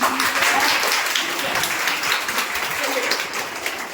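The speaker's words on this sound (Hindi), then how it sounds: "एक बार सारे बच्चे जो है प्रमोद सर के लिए ताली बजाते हैं" A room of students claps for their teacher in a classroom, a brisk, continuous patter of many hands with faint voices mixed in.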